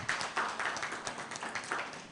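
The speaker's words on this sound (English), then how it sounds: "Round of applause." Audience at an agribusiness hub presentation in Nigeria giving a short round of applause, a dense burst of clapping that starts strongly and gradually thins out over about two seconds, with no talk over it.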